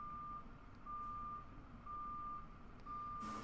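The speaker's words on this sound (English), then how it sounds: "apologies for the truck that's backing up outside my window making noises" A truck reversing outside a window, its backup alarm giving four evenly spaced long beeps over a low rumbling engine, muffled and faint at a distance, no voices.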